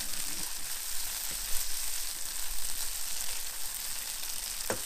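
Curry paste frying in a pan for kedgeree, a steady close sizzle and crackle running throughout with a few faint clinks and a sharp tap near the end.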